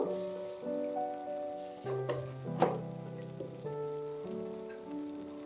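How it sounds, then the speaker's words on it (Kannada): Green chili paste and turmeric frying in oil, a steady close sizzle with spoon stirring and a few scrapes against the pan, alone without talk. "ಸ್ವಲ್ಪ ಇದು ಎಣ್ಣೆಗೆ ಫ್ರೈ ಮಾಡ್ಬೇಕು ನೋಡ್ರಿ ಹಸಿಮೆಣಸಿನ್ಕಾಯಿ"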